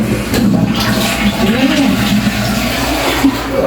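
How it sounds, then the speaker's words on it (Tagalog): A home toilet in a simple, elegant bathroom flushes, a loud rushing gush of water swirling continuously while people talk excitedly over it. "Oh, magpa-flash ka na."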